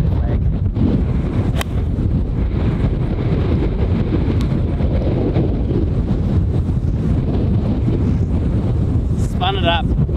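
Strong wind sweeps an exposed golf hole in New Zealand, a loud, constant rumbling roar battering the microphone throughout, with muffled voices partly buried beneath it.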